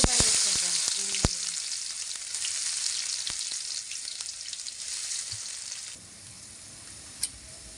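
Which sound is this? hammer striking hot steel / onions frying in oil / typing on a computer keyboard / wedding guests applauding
onions frying in oil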